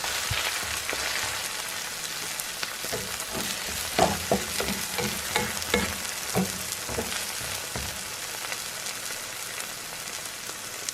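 A flourless egg pancake fries in a pan with a steady sizzle and scattered crackling pops, with no talking.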